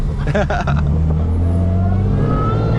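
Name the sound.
Dodge Hellcat widebody engine revving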